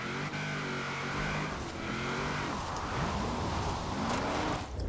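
A van converted into a drift car in Forza Horizon 4, its engine revving and climbing through the gears, loud and close, with shifting pitch and some tire noise.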